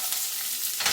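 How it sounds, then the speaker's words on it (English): Water hits a hot pan while vegetables are sautéed for braised Szechuan rabbit, giving a brief, bright hiss that swells again near the end, close and steady. "Get the water sizzling."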